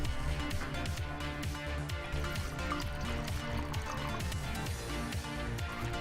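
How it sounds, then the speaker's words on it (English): A drink is poured into a glass, trickling and filling steadily for several seconds beneath continuous rhythmic background music. "Let me pour a little drink here."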